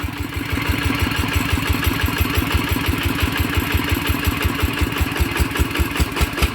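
A farm machine's engine, upgraded for paddy-field treading and water pumping, runs with a rapid, steady thumping beat and a clattering mechanical rattle on top, loud and close throughout with no talking.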